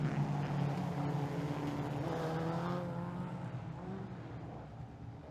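National 4's race cars circle a clay speedway at Kingaroy during a Queensland title race, their engines droning loudly and steadily with rising and falling pitch as they pass, alone without talk.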